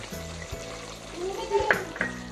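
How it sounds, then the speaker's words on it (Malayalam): Raw coconut oil is poured into a simmering Kerala-style country chicken curry with curry leaves, giving a soft close sizzle and bubbling with light stirring knocks. "കുറച്ച് പച്ച വെളിച്ചെണ്ണ ഒഴിക്കുക."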